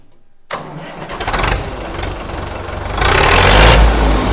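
A tractor engine cranks and catches after a short pause, then runs loud and close, settling into a rough idle before revving up sharply.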